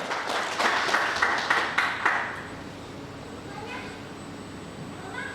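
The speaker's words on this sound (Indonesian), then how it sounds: "Tepuk tangan untuk" An audience claps at an inauguration ceremony for an organization's board, a short burst of applause lasting about two seconds that then dies away into quiet room noise with faint voices.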